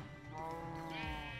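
Sheep bleating on a video game farm, a steady harmonic baa that swells and wavers, close and fairly loud, heard alone with no talk.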